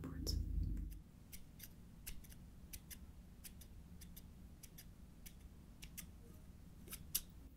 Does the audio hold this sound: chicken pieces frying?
no